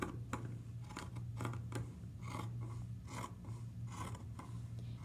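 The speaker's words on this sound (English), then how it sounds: "I'm going to take my scissors and cut it." Sewing scissors cutting across a length of fabric for a drawstring bag: a quiet, close series of crisp snipping and rasping blade strokes, repeating in an irregular rhythm with a steady low hum behind them.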